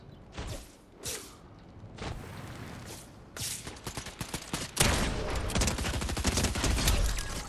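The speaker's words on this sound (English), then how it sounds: "We're getting shot at." Video game gunfire in dense rapid bursts, starting with scattered shots and swelling into sustained loud automatic fire in the second half, with no voices.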